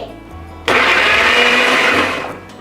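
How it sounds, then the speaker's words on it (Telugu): A mixer grinder suddenly whirs to full speed, grinding chutney ingredients with oil, holding a loud steady roar for over a second before winding down. "ఇప్పుడు దీన్ని మిక్సీ పడదాం"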